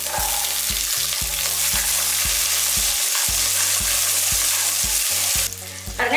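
Small shallots, a couple of handfuls, frying in a pan for mutton salna, a steady close sizzle and crackle with stirring, the hiss flaring brighter near the end.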